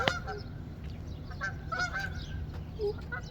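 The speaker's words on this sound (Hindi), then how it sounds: "और परिंदों की आवाज़ें देखें कितनी ज़बरदस्त लगती हैं" Geese honk repeatedly outdoors on a sunny, cold morning, the scattered calls coming at a moderate distance over steady background noise.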